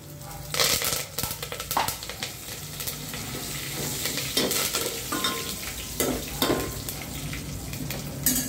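Curry leaves sizzle and crackle in hot oil while being stirred in a pan for Telugu tamarind dal, a steady close frying hiss with scraping stirs and a few sharper pops, no talking.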